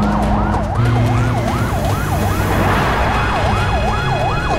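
Police car sirens wail loudly in a fast, repeating up-and-down cycle over heavy engine and road noise, close and continuous the whole time.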